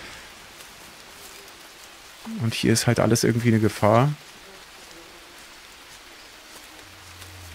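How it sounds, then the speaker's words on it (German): Steady rain falls in the jungle survival game Green Hell, a soft even hiss throughout, while someone speaks briefly in the middle. "Solange es noch regnet, würde ich sagen."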